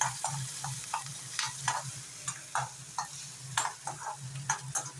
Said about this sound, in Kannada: ಸ್ವಲ್ಪ ಫ್ರೈ ಆಗಲಿ ಈರುಳ್ಳಿ